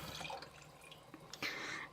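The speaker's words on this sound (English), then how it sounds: "And you just add a cup of water." Water is poured into a pot of chicken and sweetcorn soup in a home kitchen, a faint, short trickling splash that rises briefly near the end, with no talking.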